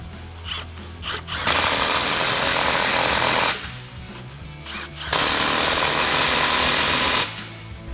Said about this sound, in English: We have 2 more clamps here at the back of our muffler. Same thing, impact M15.